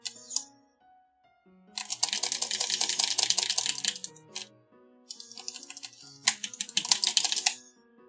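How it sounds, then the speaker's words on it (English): Computer keys clatter in fast bursts of rapid pressing while Undertale plays, two long dense flurries broken by short pauses, with the game's soft melodic music underneath and no talking. "Sound of the keyboard going ZXZX will put you to sleep?"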